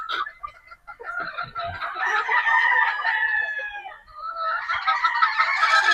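Several Boston Black gamefowl roosters crow in long drawn-out calls over steady clucking, close and fairly loud, on a farm where birds are being readied for a gamefowl expo.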